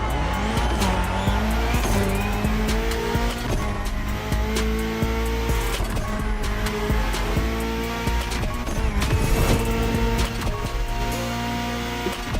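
A BMW Z4 M40i roadster drives in the racing video game The Crew Motorfest. Its engine roars steadily and loudly throughout, with bursts of tire squeal and skidding laid over a continuous layered game soundscape.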